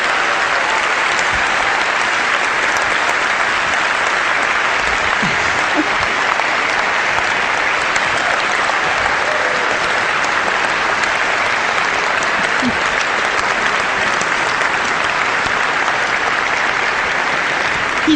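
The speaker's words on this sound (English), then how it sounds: "he does deserve a lot of applause" A lecture audience gives long, unbroken applause, a loud, even roar of many hands clapping that holds steady for the whole stretch without any voices over it.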